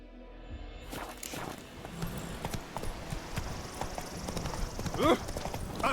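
Roach the horse gallops in The Witcher 3, rhythmic hoof clip-clops with a brief whinny near the end, under a rider's voice and ambient game sound.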